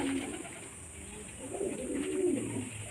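An old-line Madras pigeon at a home loft coos in soft, low, rolling bursts that swell toward the end, close by over a steady high-pitched background hum.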